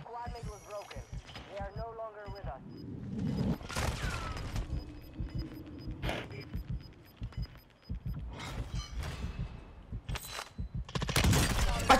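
Bursts of rapid gunfire from the game Warzone crackle in clusters, mixed with muffled talk and game effects, getting louder toward the end.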